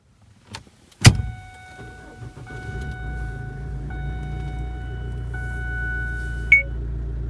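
A car engine cranks with a sharp burst and catches, then settles into a steady low idle hum with a faint electronic whine above it and a brief click near the end.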